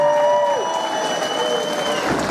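Crowd applause at an MMA fight event, a steady broad wash of clapping that runs the whole time under an announcer's voice on the arena speakers.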